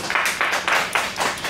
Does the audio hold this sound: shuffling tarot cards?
no